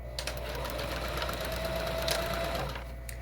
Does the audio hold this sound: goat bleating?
no